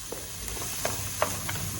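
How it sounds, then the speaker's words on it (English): Onions sautéing in a pan for a green sauté dish, a soft steady sizzle broken by a few light stirring scrapes and taps, close up with no talking. "the onions are starting to cook"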